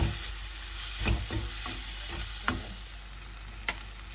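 Chopped tomato frying in a pan for a clam curry, a steady soft sizzle with a few scattered light stirring taps and clicks, close and fairly quiet, no voices.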